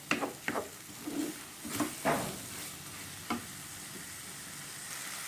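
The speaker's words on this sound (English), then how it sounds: "And just stir this." Chicken biryani with spices being stirred in a wok, with a soft sizzle underneath and several scraping, clinking strokes of the utensil against the pan, close and fairly quiet, with no talking.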